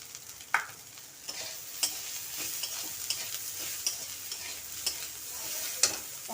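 Boiled chickpeas and dried bean seeds being stirred in a pan, soft sizzling under irregular scraping strokes and a few sharper clinks of a utensil, fairly quiet and without speech.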